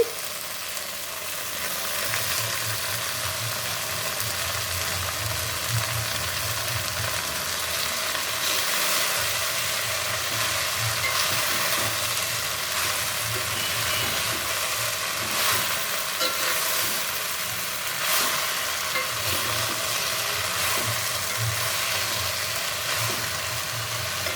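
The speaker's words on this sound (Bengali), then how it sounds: "পেঁয়াজ রসুন ভাজা হয়ে গেছে শাকগুলো দিয়ে দিলাম" Leafy greens frying in a pan with onion and garlic, a steady close sizzle with soft stirring and scraping running throughout, with no talking.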